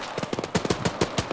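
Rapid bursts of machine gun fire from the video game Arma, a loud rattling series of shots in quick uneven rhythm, close and steady throughout with no talk.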